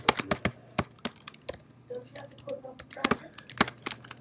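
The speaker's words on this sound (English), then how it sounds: "I'm going to start typing this" Typing on a computer keyboard during a computer science class, with irregular bursts of sharp key clicks close to the microphone and brief pauses between runs of keystrokes.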